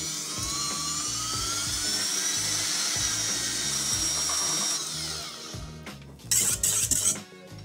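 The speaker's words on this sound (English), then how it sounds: "I'm going to start whisking and then gradually add the rest of the sugar." An electric whisk whines steadily at high speed through egg whites as sugar is gradually added, then the tone drops away and gives way to a few louder, rattling bursts near the end.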